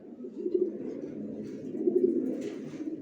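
Racer pigeons coo in soft, low, throaty rolls, two clear phrases close by over a faint murmur, with no speech.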